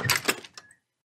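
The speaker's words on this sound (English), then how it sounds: "let's open the door." A door opens with a quick cluster of soft scraping and clicking bursts that fade out within a second, fairly quiet in an otherwise still space.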